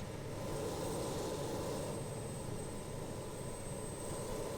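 An auxiliary power unit spools up on a BAe 146 airliner in a flight simulator, a steady loud whine-and-roar with a constant high tone over dense broadband rumble, holding level throughout without talk.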